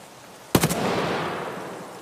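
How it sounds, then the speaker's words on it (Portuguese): Escape from Tarkov gunfire on single fire: a rapid burst of three sharp shots at close range, followed by a long echoing rumble that slowly fades, with no talking. "Eu tô dando tiro no single fire aqui num trouxa aqui"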